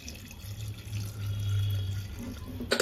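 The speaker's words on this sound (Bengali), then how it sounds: "হয়ে গেছে জল দেওয়া, গরম জল" Hot water is poured into a pot of mutton, a soft steady gurgling pour with a low hollow resonance lasting a couple of seconds before a brief clatter at the end.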